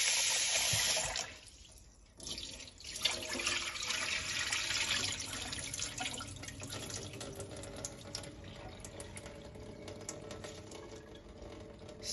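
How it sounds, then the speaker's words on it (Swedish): Rice being rinsed under a running kitchen tap, a steady hiss of flowing water splashing into a sink with a brief dip in the flow, close and continuous without any talk. "Jag sköljer min ris igen."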